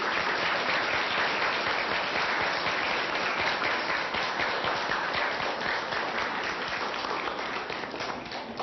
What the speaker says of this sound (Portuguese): nós vamos aplaudir as felicitações que vocês trouxeram para esta assembleia